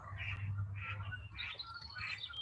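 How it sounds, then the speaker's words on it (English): Birds calling outdoors near ducks, with several soft, quiet chirping bursts repeating at a fairly even pace over a low steady hum, with no talking. "Or maybe the sounds of the ducks and the birds are distracting"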